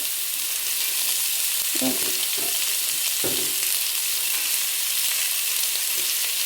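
Beans frying in a pan, being stirred: a steady loud sizzle throughout with a few scraping stir strokes scattered across it, close up and with no talking.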